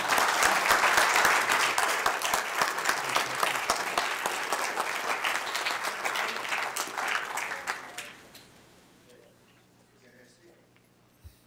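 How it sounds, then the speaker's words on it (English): Audience applause at an evening county planning, zoning and board of commissioners meeting, a dense roomful of clapping for about eight seconds before fading into quiet room tone. "Can we give one more round of applause for Don?"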